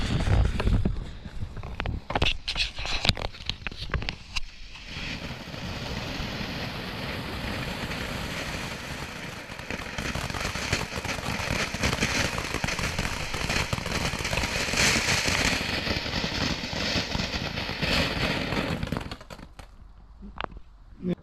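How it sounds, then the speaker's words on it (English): A rainbow fountain firework burns on Bonfire Night, a steady loud hissing, crackling spray lasting nearly twenty seconds, opening with a burst of sharp pops and cutting off abruptly near the end. "So here we have a rainbow firework, a fountain"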